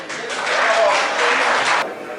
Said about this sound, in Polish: Oklaski dla kolegi